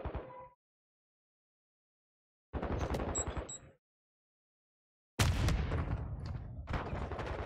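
Automatic weapons fire in bursts in Warzone 2.0: a short burst, a longer rattling volley after a pause, then loud sustained firing up close, separated by dead silence.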